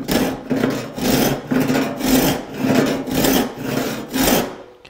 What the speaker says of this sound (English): saw without sawing to start the cut